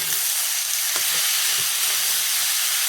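Radish pieces sizzle loudly and steadily in hot white vegetable oil for a Bengali radish chhechki, a dense continuous frying hiss with a few soft stirring knocks, close and without talk.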